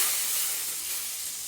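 A loud, bright sizzle and hiss as hot tempering is poured into urad dal, steady and close, fading slightly as it continues.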